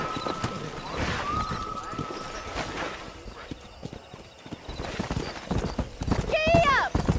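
Galloping horse hooves in the Red Dead Redemption video game, a fast steady clip-clop running beneath talking voices, with a brief horse whinny near the end.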